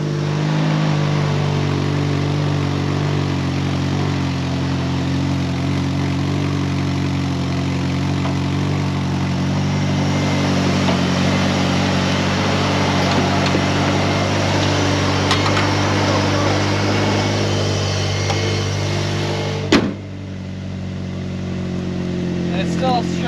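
Old Ford Ranger pickup engine with an aftermarket exhaust, a loud steady rumbling idle that runs nearly unbroken throughout, ending with a brief sharp knock before it drops off.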